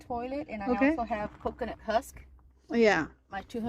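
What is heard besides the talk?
None of the usual background noises is heard.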